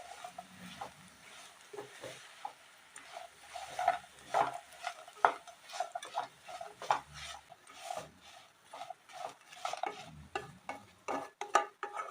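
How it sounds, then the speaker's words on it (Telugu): Potato pieces and onions frying together in a pan, with repeated scraping stir strokes in an irregular rhythm over a soft, faint sizzle, close by and without speech. "ఈ ఉల్లిపాయ ముక్కలు ఫ్రై అయిపోయాయి కదా. ఇప్పుడు ఇందులో బంగాళదుంప ముక్కలు వేసుకుందాం"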